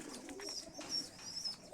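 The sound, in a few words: pigeons cooing in the loft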